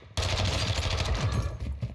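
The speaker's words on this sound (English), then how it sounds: "You about to see what this SMG do to him in a second" Sustained submachine gun fire in Warzone 2 at Fort Resurgence, a loud dense burst of rapid shots running for nearly two seconds after a brief quiet start.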